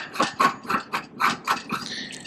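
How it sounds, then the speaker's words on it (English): Blue handle pole screwed by hand into the metal frame of a DM-3 milking machine, a series of about eight rhythmic grinding, ratcheting turns close by, each a short scrape, with no talking. "It's the handle and it screws into the frame anti-clockwise just like this."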